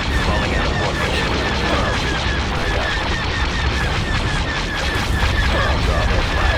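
Bombs exploding in the space battles of the video game Star Wars Empire at War, a dense, continuous rumble of booms and blasts with mechanical battle noise, steady and loud throughout.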